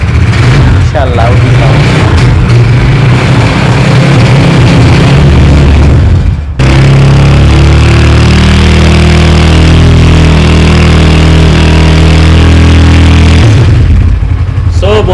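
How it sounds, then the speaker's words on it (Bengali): A 2024 NSX 165R motorcycle engine fires up and revs hard, loud and close, with rising and falling throttle blips, a short cut around the middle, then a steadier rumbling idle before another rev. "আমরা তাহলে এই বাইকটা একটু স্টার্ট করে দেখাই"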